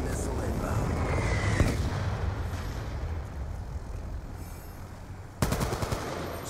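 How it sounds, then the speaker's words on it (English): Hellstorm missile strike in Call of Duty Black Ops 2, a rumbling blast and roar under game chatter, followed by a sharp burst of gunfire near the end. "Friendly Hellstorm missile inbound"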